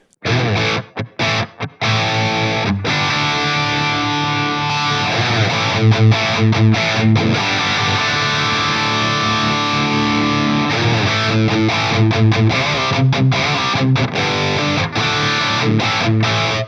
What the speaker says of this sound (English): using the clean boost settings into a dirty amp sounds really good too